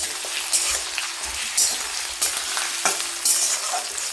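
Cut potatoes frying with reddened onions in a pan, a continuous close sizzle broken by several sharper scraping stirs and crackling bursts, no voices.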